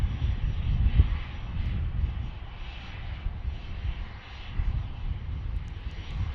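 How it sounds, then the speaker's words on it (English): Airliner taxiing at Dallas Love Field with a maintenance issue, its engines giving a steady, moderately loud rumbling whine at a distance, with no talk over it. "Looks like he's got a maintenance issue, so he's going to taxi off here."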